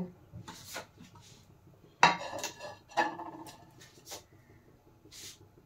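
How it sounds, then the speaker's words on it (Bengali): Yard-long beans are dipped into gram flour batter in a bowl, with a few sharp clinks and clatters of a utensil against the dish between quieter, wet stirring moments, close and sparse. "এখন এই বরবটিগুলো আমি এইভাবে বেসনে ডুবিয়ে নেব"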